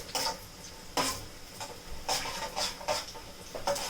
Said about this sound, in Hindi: ये तेल हमारा गरम हो चुका है, अब हम इसमें डाल देंगे जीरा। जीरे को भूनने देंगे, थोड़ा स्प्लटर होगा ये।